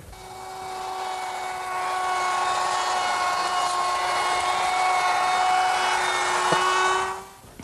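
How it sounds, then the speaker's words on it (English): A router cuts a cove along a wooden fascia board, a loud high whine held steady for about seven seconds with a slight load change midway, then spinning down at the end, close by and alone. "down at the bottom corner I've put a little cove, and I'll do that with a router"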